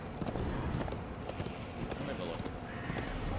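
Horse hooves clip-clop at a gallop in the video game Darksiders, with occasional whinnies, moderately loud in game audio.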